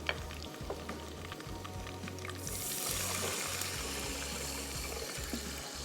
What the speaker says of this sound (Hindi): चलें इसमें शामिल कर देंगे थोड़ा पानी।